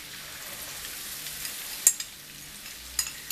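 Onions and garlic fry in rendered bacon fat, giving a soft, steady sizzle with a few sharper crackles and pops near two and three seconds, and no voices.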